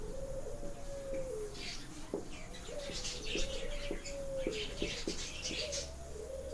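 Pigeons or doves coo in a repeated, rhythmic series of soft, hollow calls at moderate distance, with light chirping and faint background hiss.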